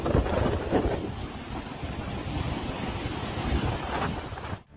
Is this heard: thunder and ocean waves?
yes